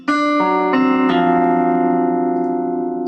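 A single rich 7 sharp 9 guitar chord is struck, then notes shift as the voicing builds, ringing out and sustaining alone.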